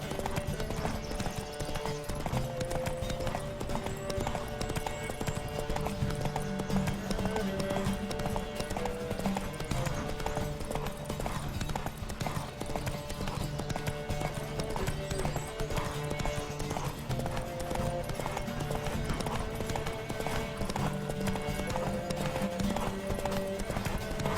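Rapid rhythmic hoofbeats of a galloping horse in The Witcher 3: Wild Hunt run continuously over a dense bed of music and ambient noise, with a faint whinny at points.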